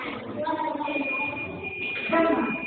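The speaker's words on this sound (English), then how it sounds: "Until the aircraft early warning alarm sounds." A steady high-pitched aircraft early warning alarm tone holds throughout at a school in Syria, sounding over background voices and classroom bustle.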